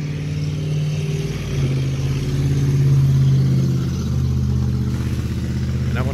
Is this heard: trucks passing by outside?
yes